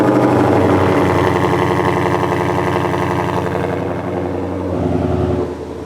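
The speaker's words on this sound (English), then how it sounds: "That's my favorite part, the active exhaust." A newly modified Ford Mustang GT500 with active exhaust runs with a loud, deep, steady rumble close by. The rumble dips and settles to a quieter, lower drone toward the end.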